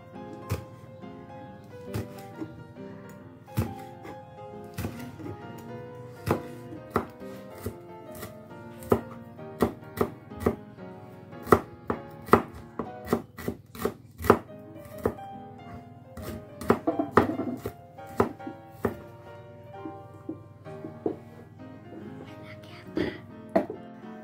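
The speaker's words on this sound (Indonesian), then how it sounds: "Bumbu-bumbunya akan kita iris-iris aja." A knife chops spices such as red chilies and green onion on a cutting board to prepare a stir-fry of bok choy, bean sprouts and egg. Sharp, irregular knocks land closely and repeatedly, sometimes in quick bursts, over a quiet background.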